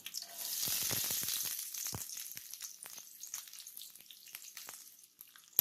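Onion sautéing in oil with a bay leaf, cinnamon, cardamom and green chilli for carrot rice, a bright close sizzle that swells early then settles into a steady crackle with scattered stirring pops.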